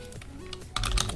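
Java code being typed on a computer keyboard: a quick run of sharp key clicks, light and sparse at first, then a denser, louder burst of keystrokes near the end, close up with no talking.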